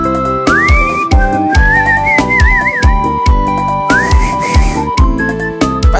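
Someone whistles a sliding, wavering tune over a backing music track with a punchy, regular drum beat.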